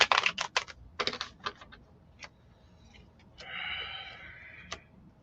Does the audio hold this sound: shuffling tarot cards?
yes